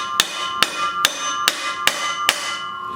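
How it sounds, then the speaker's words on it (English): Six sharp metallic hammer taps, evenly spaced, ring out on a driveshaft U-joint clamped in a bench vise, each strike leaving a bright ringing decay. "Tap it with a hammer."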